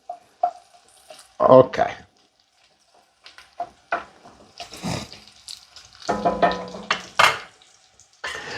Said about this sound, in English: you gotta cook a little bit of the garlic and the onion together like this